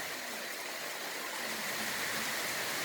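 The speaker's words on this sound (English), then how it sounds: "Not too bad right now, just a steady rain." Steady rain falling outdoors during tropical storm Ophelia, a continuous broadband hiss with no gaps, moderately loud and even throughout, with no talking.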